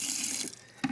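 Water running from a kitchen tap to cover chopped, salted bok choy cabbage for kimchi, a close steady splashing stream that breaks off near the end with a brief gurgle.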